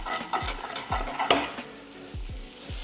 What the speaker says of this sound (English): We go in with the butter, and we just want to gently melt this.